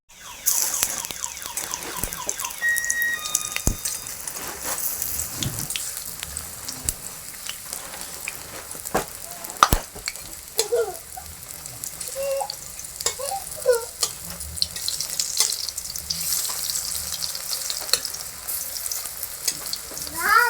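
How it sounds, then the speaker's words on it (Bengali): Egg and potato pakora frying slowly in oil over lowered gas, giving a continuous crackling sizzle with occasional utensil clinks and scrapes. A faint bird call and an electronic beep come through in the background. "গ্যাসটা একটু কমিয়ে দিয়ে আস্তে আস্তে ভেজে নেবো"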